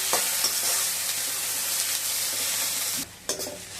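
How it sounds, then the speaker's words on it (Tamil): Onions and green chillies sauté and sizzle in a pan, a steady close frying hiss with a few stirring scrapes, quieter briefly near the end before stirring resumes. "ஒன்றா போட்டு வெங்காயம் தான் உதங்கணும் நல்லா. இப்போ இதில் கூட பச்சை மிளகாய் சேர்த்துக்கலாம்."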